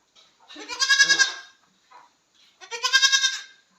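Two loud, wavering goat bleats, close by, separated by a short pause with quiet in between.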